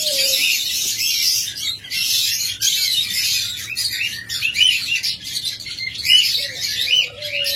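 Opaline lovebirds at a breeding setup chirp and tweet in a dense, continuous chorus of many birds, with occasional sharper calls standing out over the steady chatter.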